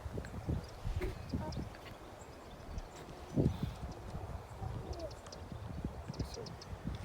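A ridden horse's hooves clip-clop in an uneven walking rhythm on a flat surface, fairly close, with occasional bird calls and faint background noise around them.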